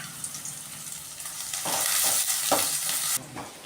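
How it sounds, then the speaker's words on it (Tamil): Onions frying in oil and browning to golden are stirred in a pan, close sizzling with louder scraping stir bursts in the middle before settling back to a steady hiss. "ஸோ வெங்காயம் நல்லா பொன்னிறமான கலருக்கு நல்லா வதங்கணும்"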